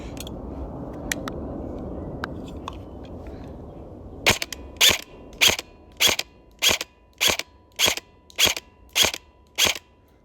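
An airsoft rifle fires BBs in nine sharp, evenly spaced shots after a few scattered clicks over faint outdoor background, each report crisp and close.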